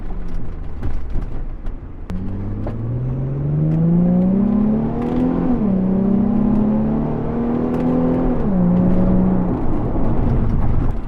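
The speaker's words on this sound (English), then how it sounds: "A lot of people don't like the sound of V6s." A Nissan 350Z Cabriolet's V6 engine revs up smoothly and loudly, its pitch climbing steadily with a brief dip as it shifts, then holding a strong drone.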